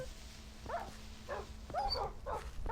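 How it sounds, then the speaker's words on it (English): Dogs in the Minecraft video game give several short, faint, scattered barks and yips spaced unevenly over a quiet background. A low steady hum runs underneath. "Are we down to 3 dogs?"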